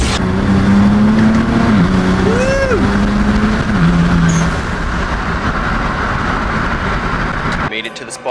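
A tuned 500 hp BMW 335i pulls hard on a highway, its engine note climbing and rising in pitch, loud and close, before easing off and fading toward the end.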